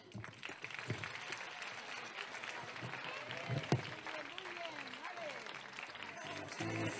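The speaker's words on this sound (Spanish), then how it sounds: "Vamos a darles un fuerte aplauso a todas las estrellitas de mar." Audience applause at an end-of-year school festival, steady clapping mixed with children's voices and chatter, moderately loud throughout.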